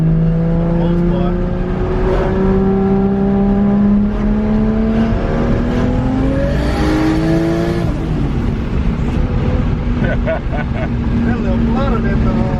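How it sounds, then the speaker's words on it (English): A JZ-swapped Lexus SC400 with a straight pipe and blow-off valve revs hard, its loud engine tone rising and falling in long sweeps, close by and steady throughout with voices talking over it. "It got the straight pipe, so it does sound pretty good."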